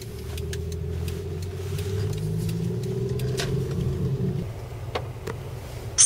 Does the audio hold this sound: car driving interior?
yes